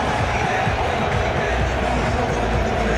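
Football crowd at a Scottish Cup Final between Hearts and Hibs cheering steadily as the trophy is lifted, a dense, continuous roar of many voices with a commentator talking over it.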